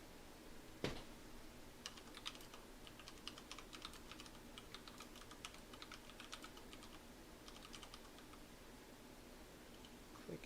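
Typing on a computer keyboard, quick soft clicks in irregular bursts, close and quiet, with a single sharper knock near the start.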